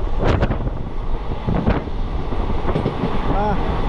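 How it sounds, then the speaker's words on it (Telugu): A moving train on the Rayagada to Visakhapatnam route gives a constant close rumble mixed with heavy wind buffeting, with a few sharper clatters through the run. "మా ట్రైన్ ఇంకా స్పీడ్ వెళ్ళిపోతుంది."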